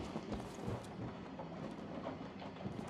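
Rain in the horror video game Outlast: a dense, even hiss of falling rain with low rumbling underneath, steady and continuous without speech.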